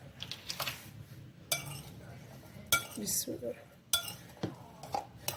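Chaat ingredients with half a teaspoon of salt being mixed in a bowl, giving repeated clinks and scrapes of a spoon against the dish in short bursts, fairly close, with no talk.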